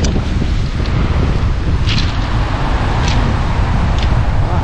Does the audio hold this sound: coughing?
no